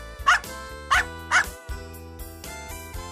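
A dog barks three times in short, evenly spaced bursts, close and loud, over a steady musical backing.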